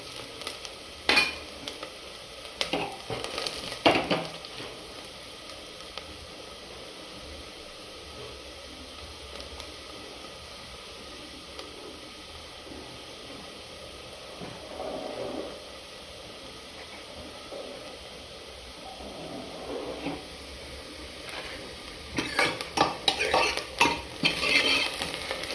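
Golden-browned onion with paste added, frying for a chicken dish and stirred continuously in a pan; a low sizzle runs throughout with bursts of utensil scraping and clatter near the start and end, close up.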